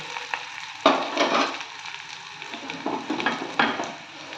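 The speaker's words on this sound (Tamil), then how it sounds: "வெங்காயம் இந்த அளவு வதங்கினா போதும்" A steady sizzle of onions sautéing in a hot pan, with occasional scrapes and clicks from stirring, close up and moderately loud.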